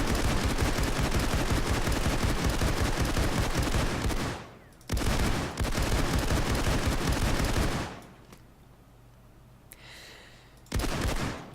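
Sustained automatic gunfire from a perk-boosted weapon in the heist shooter game Payday 2, a loud dense unbroken stream of rapid shots for several seconds, briefly pausing, then resuming before a quieter stretch and a final burst.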